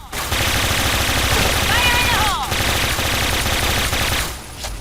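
A Kriss S.V in the shooter Point Blank fires a loud, rapid, sustained automatic burst of several seconds, close and dominant, with a voice speaking under it.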